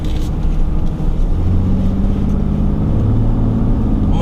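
A 2021 RAM 2500 Cummins heavy-duty diesel truck drives along with a loud, steady, low engine drone and road rumble, its tone rising slightly as it goes, with no voices.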